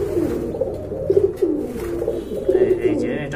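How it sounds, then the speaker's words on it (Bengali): Teddy pigeons in a coop cooing repeatedly in soft, rhythmic bursts, close by, with some faint background voices. "এখানে কিন্তু আরেক জোড়া টেডি কবুতর আছে"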